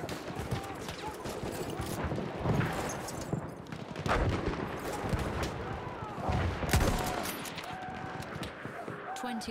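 Battlefield 1 battle ambience: scattered rifle shots and distant machine-gun bursts rattle on and off across a noisy battlefield soundscape, steady and mid-distance throughout.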